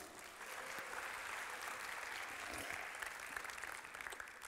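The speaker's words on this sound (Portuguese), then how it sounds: "uma salva de palmas para Juan." Church congregation applause rolls on steadily, many hands clapping together in a sustained, even burst from a large room, fairly distant, with a few sharper claps near the end.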